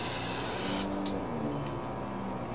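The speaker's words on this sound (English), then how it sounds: "just with carb cleaner, it's coming right off" Carb cleaner sprayed onto pressure washer carburetor parts gives a loud, close, continuous hiss that sharpens into a few short bursts near the end.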